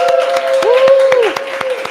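Audience applause in a hall, many hands clapping densely and steadily for about two seconds, with sustained tonal music ringing through underneath and a slight dip near the end.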